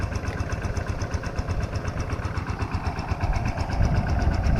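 A water pump engine, used to drain water for catching fish, runs nearby with a steady rhythmic chugging that grows slightly louder toward the end.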